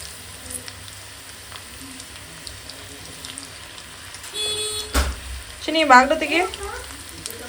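Mint chicken kebabs fry in a pan with a soft, steady sizzle in a home kitchen, joined midway by a brief thud and a short spoken phrase over the frying.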